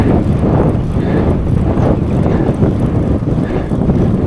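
Heavy wind buffeting the microphone while road cycling around Lake Flanagan, a loud, continuous low roar with gusty surges and no clear talk.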